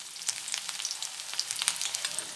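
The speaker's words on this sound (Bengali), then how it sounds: "দিয়ে এগুলো একটু ভালো করে ভেজে নেব।" Dried red chillies, nigella seeds and onion fry in hot oil in a pan. A close, dense crackle and spit of sizzling oil carries steadily throughout, full of quick sharp pops. No one speaks.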